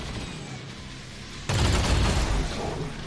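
A sudden burst of rapid gunfire in the video game XCOM 2: War of the Chosen cuts in halfway through, loud and sustained with a dense, crackling texture over low rumble.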